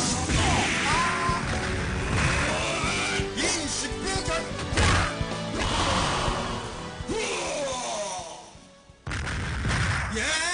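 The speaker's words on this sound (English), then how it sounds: "when you punch people or kick people, it has this really big beefy echo to it" Punch and kick impacts from the Art of Fighting arcade fighting game, heavy beefy thuds with a big echo, repeating in quick bursts over dense game music and effects, loud throughout.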